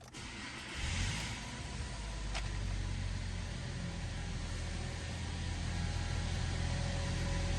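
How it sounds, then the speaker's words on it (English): A 2018 Toyota Tacoma SR with about 87,000 miles cranks briefly, then settles into a low, steady idle that hums quietly inside the cab, with no talking. "let's go ahead and start this vehicle up for y'all"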